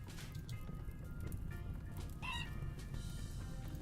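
A hen in Rimworld Alpha 16 clucks faintly in short calls amid busy game ambience and low background noise, with a brief higher squawk near the middle.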